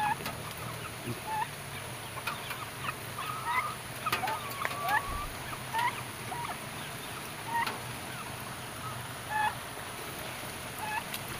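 Scattered clucks and short calls from turkeys over a steady background hiss, fairly faint and spread across the scene.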